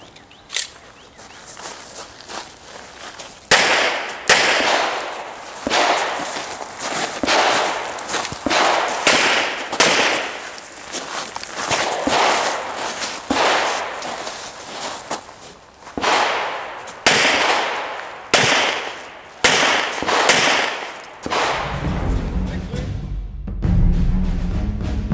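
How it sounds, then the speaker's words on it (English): Handgun shots ring out in a steady series of sharp, loud reports during an IDPA defensive shooting match, fired in quick strings with short pauses between groups, ending with a low rumble. "This stage has the shooter fire six rounds with strong hand only, then weak hand only, and then freestyle."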